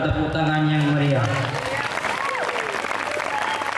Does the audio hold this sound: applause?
yes